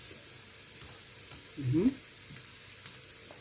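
Chicken liver and gizzards sauté in a pan with a quiet, low background sizzle and one brief louder burst of stirring and spattering near the middle. The sound is faint and close.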